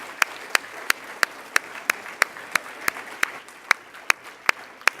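Sparse, evenly spaced hand claps, about fifteen sharp slaps at a steady rhythm, from a small audience at a Third Hampshire District candidates forum, moderately distant, with no talk over them.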